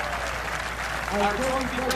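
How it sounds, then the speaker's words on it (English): Audience applause at the final day of the Manulife Financial LPGA Classic golf tournament in Waterloo, Ontario, honoring a competitor after a playoff; steady, dense clapping throughout, with voices rising over it in the second half. "let's have another warm round of applause for the great competitor in this playoff as well, Angela Stanford."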